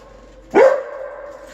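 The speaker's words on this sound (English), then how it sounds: "You didn't see the dog barking at the man." A dog on a leash gives a single sharp bark at a man, which trails off into a brief whine against an otherwise quiet background.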